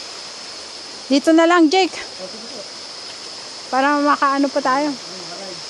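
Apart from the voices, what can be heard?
waterfall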